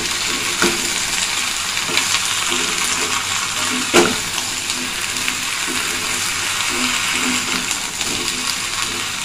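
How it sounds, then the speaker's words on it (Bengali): Spices and chilli powder fry in a pan with a continuous close sizzle, broken by occasional stirring knocks and clinks. "একটু ফ্রাই হচ্ছে।"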